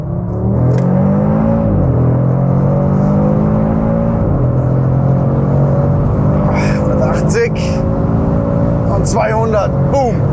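An ABT Audi RS3 with 630 HP pulls hard from 100 to 200 km/h on the Autobahn, its engine note climbing steadily through the gears with brief drops at each shift, loud and close from the cabin.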